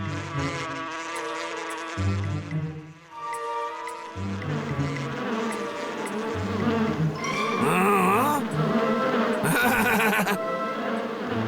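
Flies buzz in a cartoon with a loud, continuous, wavering whine. It rides over busy music and sound effects, and near the end it swells into brighter, harsher bursts.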